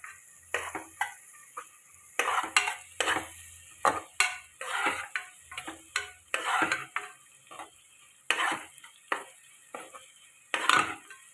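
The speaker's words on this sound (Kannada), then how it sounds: "ಕೆಂಪಾಗೋ ಥರ ಹುರ್ಕೋಬೇಕು ಈರುಳ್ಳಿನ" Onions frying in a pan with turmeric and asafoetida for dal khichdi, stirred in quick, repeated scraping strokes that come in uneven bursts, close and fairly clear, with only a faint sizzle underneath and no talking.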